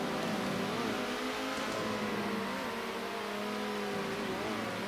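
Race car engine in the Circuit Superstars video game, droning continuously at high revs with slight pitch shifts, steady and fairly loud.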